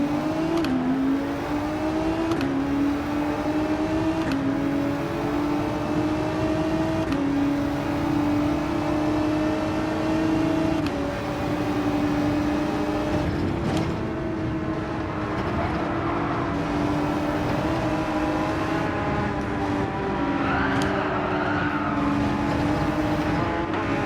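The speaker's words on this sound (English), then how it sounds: "It's a Ferrari, GTR, Porsche, GTR, Porsche," A Ferrari, a GTR and Porsches including an RSR rev and pass, engine notes rising and falling in a continuous loud drone as cars stream by one after another.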